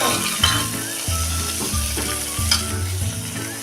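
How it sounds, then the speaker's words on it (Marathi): Cauliflower sautéing with onion in a hot pan, a continuous loud sizzle broken by repeated scraping strokes of a spatula and faint clinks, up close with no talking. "आता हा फ्लावर आपण कांद्याबरोबर छान परतून घेऊया"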